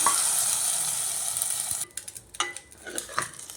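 Dried red chillies and curry leaves sizzle in hot oil in a pan, a bright steady crackle for almost two seconds, then the hiss drops away, leaving scattered scraping stirs and clinks of a spoon against the pan.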